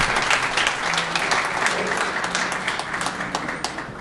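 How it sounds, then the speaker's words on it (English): Audience applauding at a launch ceremony in New York City, a dense steady roar of clapping hands from a crowd that holds at a constant level throughout, with no talk. "Give him a round of applause."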